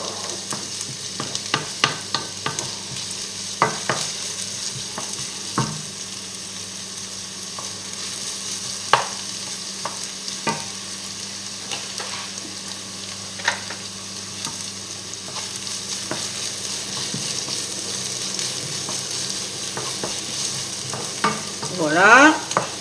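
Onions fry over medium heat in a pan for a leek and camembert tart, with a steady soft sizzle under repeated scraping and stirring clicks from a utensil, close and moderately loud, without any talking.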